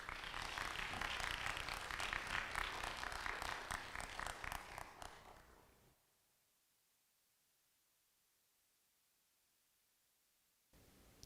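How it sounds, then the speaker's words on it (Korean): Large audience applauding for a poet's lecture at an autumn-themed Korean traditional music and humanities event, dense steady clapping for about five seconds before fading out into near silence. "큰 박수 부탁드립니다."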